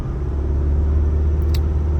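Mazda CX-5 engine held at 2000 RPM, a steady low rumbling idle-like drone with a constant throb, close by and unbroken, with a faint brief high tick near the middle.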